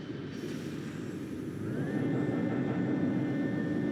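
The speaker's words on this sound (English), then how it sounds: "If we start the assembly line, it should carry us inside." Factory assembly line in the Star Wars Battlefront II game starting up, a broad, steady mechanical roar that grows louder partway through as a rising whine settles into a constant high tone.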